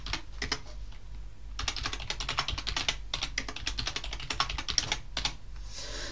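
Fingers typing a username on a computer keyboard, with quick bursts of close, crisp key clicks separated by short pauses, a clear rapid clatter throughout.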